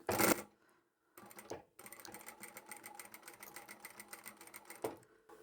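A sewing machine stitches the lining of a tapered toiletry bag, with a short burst and a pause, then a fast rattling run of close, rapid stitching. No one talks.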